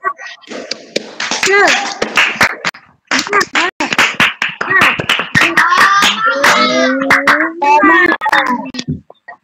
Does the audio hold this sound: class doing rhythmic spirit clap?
yes